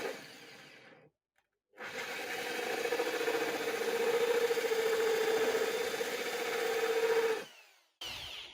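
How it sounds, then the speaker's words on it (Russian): A small power drill whirs steadily with a sustained tonal whine while boring a hole into aquarium glass, stopping briefly near the start and cutting off at the end. "И потихонечку сверлим, не спеша."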